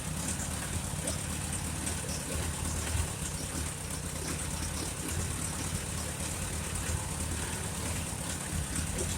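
A rebuilt Farmall Super A tractor engine running, slightly laboring with the carburetor settings off, a steady droning idle that holds unbroken and fairly loud throughout.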